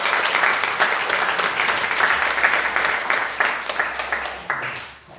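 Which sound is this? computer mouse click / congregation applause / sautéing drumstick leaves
congregation applause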